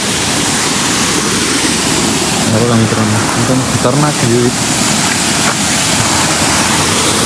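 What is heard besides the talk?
Pansari waterfall at Bhandardara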